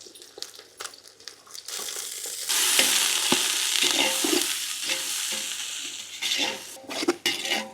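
Chopped garlic hits hot oil for mandi biryani, bursting into a loud close sizzle, with a spoon stirring and scraping the pan before and after.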